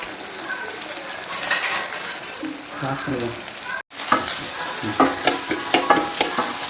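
Onions for chicken curry sautéing in a pan, a steady broadband sizzle with spatula stirring scrapes and a brief break midway, close and fairly loud, no talk.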